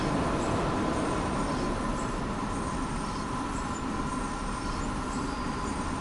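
A locomotive train rolls through a station in the Train Sim World game, a steady broadband rumble of wheels and engine holding at an even loudness throughout with no talking.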